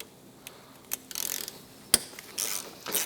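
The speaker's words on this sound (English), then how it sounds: "Remove these bulkhead bolts." Ratchet wrench working bulkhead bolts loose on a 2016 Polaris RMK AXYS 800 snowmobile during a turbo install, with a few separate bursts of close metallic clicking, a sharp clank partway through, and quiet gaps between.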